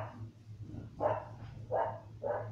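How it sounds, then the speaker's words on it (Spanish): A dog in the Minecraft video game barks three times in a quick, evenly spaced series, moderately loud over a low background hum. "El perro."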